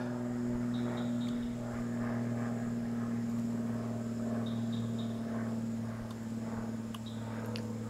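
Airplane passing overhead, a steady low engine drone with a constant hum, joined by a few faint bird chirps, no talking.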